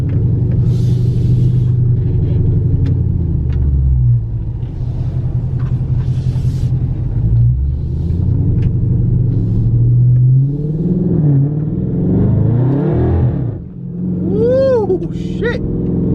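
Car fitted with a Legmaker True cold air intake accelerating on the road, a loud, steady engine rumble with rising and falling revs, brief whistling pitch sweeps near the end, and faint talk underneath.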